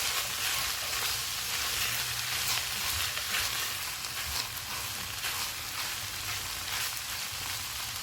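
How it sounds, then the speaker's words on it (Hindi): Minced meat with onion, capsicum and soy sauce frying in a pan over full flame, a continuous broad sizzling hiss at moderate level with faint stirring, no voices. "अब इसमें प्याज डालेंगे, शिमला मिर्च, सोया सॉस, चूल्हे को फुल कर देंगे और इनको 2 से 3 मिनट तक भूनेंगे"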